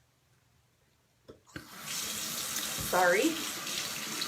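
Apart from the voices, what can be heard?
tap water running to wet a makeup product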